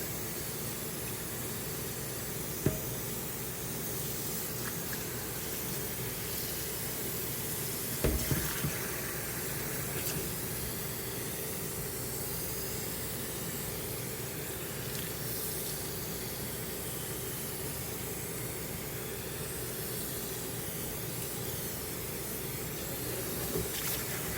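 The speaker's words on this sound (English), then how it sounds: "Alright, I got it rinsed out from the inside to out." Low-pressure water sprays steadily through an oiled Spectre air filter being rinsed from the inside out, a constant even hiss of running water with a few small knocks and no speech.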